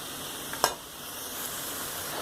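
Vegetables and ginger frying in oil in a pan, a steady soft sizzle throughout with one sharp crackling burst early on, alone with no talking.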